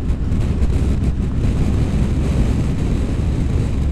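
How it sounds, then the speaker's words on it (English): Strong wind buffets the microphone in steady, loud low roaring gusts at a bridge crossing on the border between Sweden and Norway, filling the whole stretch without letting up. "Very windy here."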